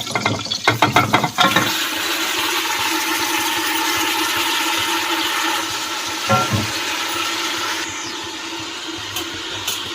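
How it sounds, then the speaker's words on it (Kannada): Mutton hits hot cooking oil in a pot for biryani, giving a steady, close sizzling hiss after some brief clattering at the start. "ನಾನೀಗ ಮಟನನ್ನು ಹಾಕ್ತಾಯಿದ್ದೀನಿ."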